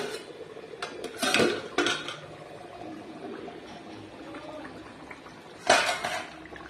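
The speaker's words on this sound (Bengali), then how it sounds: "এবার আমি ঢাকনাটাকে তুলে নেব।" A metal lid is lifted off a pot of cooking rice, giving a few close clanks and scrapes of metal early on and another sharp clink near the end, over faint kitchen background.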